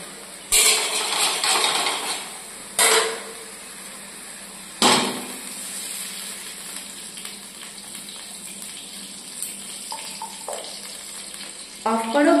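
Ghee heats in a pan for frying paneer, giving a few loud bursts of sizzling hiss early on. A quieter, steady crackle follows, with a brief clatter near the end.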